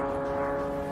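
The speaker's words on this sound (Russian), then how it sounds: "А это дрон летел, оказывается." A drone flies overhead during an attack on St. Petersburg, Russia, giving off a steady, droning engine whine with a fixed pitch that holds evenly throughout, moderately loud and with no voices.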